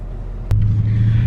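Mercedes-Benz E550 car engine settling into a steady low idle rumble after a sharp start-up burst, close and continuous without talk.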